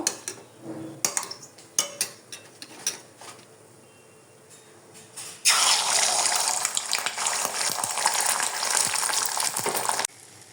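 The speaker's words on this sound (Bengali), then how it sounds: "এখানে আমি আয়ন বাবুর জন্য একটা ডিম ভাজি করে নিচ্ছি" An egg fries in a hot pan: scattered clinks and taps of utensils at first, then a loud, dense, steady sizzle that runs for several seconds before cutting off abruptly.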